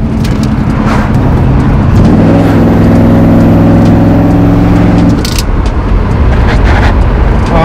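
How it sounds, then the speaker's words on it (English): A McLaren 570S sports car on 255 radial tyres revs hard and accelerates away, its engine note climbing in rising harmonic sweeps before easing off, loud and close with road noise throughout. "Let me try to take off without chirping the wheel."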